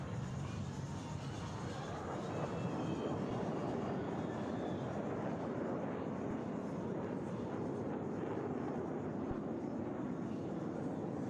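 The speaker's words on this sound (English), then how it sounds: "All 4 aircraft flying as one in this graceful 360-degree rolling maneuver." Four display team aircraft flying together through a 360-degree rolling maneuver at an air show, giving a steady, distant, broad engine roar that holds level throughout.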